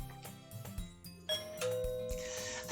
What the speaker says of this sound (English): I've barely had time to get dressed when I hear the doorbell